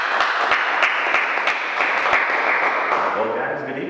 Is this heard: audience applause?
yes